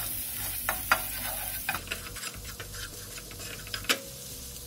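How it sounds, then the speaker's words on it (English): Vegetables softening in a pan on the stove, a faint steady sizzle with scattered light ticks and scrapes from stirring, heard alone at close range. "I'm gonna saute these"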